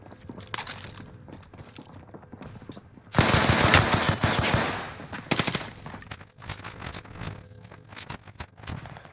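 Gunfire rattles through a Call of Duty match on Rebirth Island, with scattered distant shots giving way to a loud, sustained close burst of rapid automatic fire, then more intermittent bursts and single shots.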